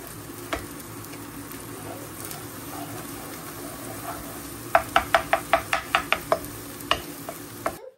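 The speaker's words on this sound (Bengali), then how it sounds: "তো নুডলস রান্না করছে আমার আর তারিকের জন্য" Noodles cooking in a home kitchen pan, a soft continuous sizzle with a quick run of rhythmic metallic scraping and stirring taps near the end.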